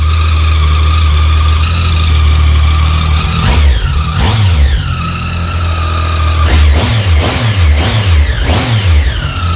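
A 2015 Triumph Speed Triple motorcycle engine revs hard several times at close range, each blip rising and falling in pitch with a whining edge over a steady rumbling idle.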